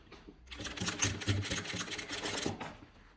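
A sewing machine stitches the bias-binding edge along a dress neckline in a single close, steady run of rapid needle clatter lasting about two seconds, with brief quiet before and after.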